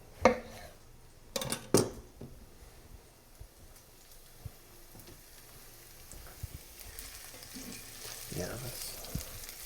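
Garlic and spinach sautéing in a pan, a low sizzle that runs through the whole stretch, with a few loud clanks of a utensil and pan near the start and a brief spoken word.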